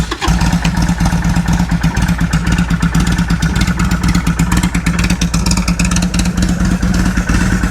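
Harley Sportster 1275 motorcycle engine starting and then idling, a loud, close, rapid lumpy V-twin chug with steady rhythmic pulses and mechanical clatter throughout.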